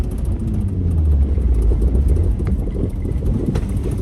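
Car accelerating hard from 0 to 60 with wheel spin, heard as a loud, steady engine roar buffeted by wind noise, continuous and close throughout with no talk.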